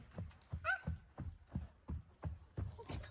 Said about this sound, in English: the horse is running in circles